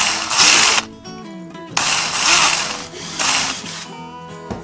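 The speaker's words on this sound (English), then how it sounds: "I'm drilling into the wood effectively." Power drill boring into wood for a cyclonic shop vacuum upgrade, three loud bursts of whirring drive separated by brief pauses, with mechanical rattles in between.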